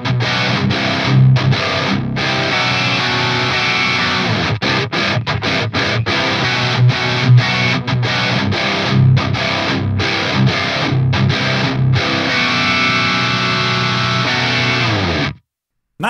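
Heavily distorted high-gain electric guitar riffs play through a tubeless amplifier, with tight chugs broken by rapid staccato stops, then a sustained stretch before the sound cuts off abruptly at the end.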